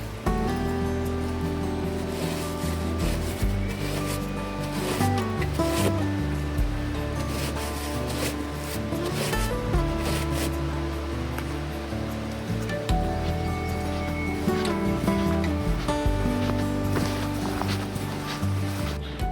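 Steady broadband rush of waterfalls on a forest hike at Yellow Dog Falls in Michigan's Upper Peninsula, a continuous, fairly loud water roar with no breaks and no talking.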